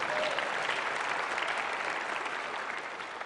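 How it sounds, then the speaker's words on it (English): A graduation crowd at Liberty Christian Academy gives a steady round of applause, dense and even throughout, gradually easing slightly toward the end. "Round of applause after that one."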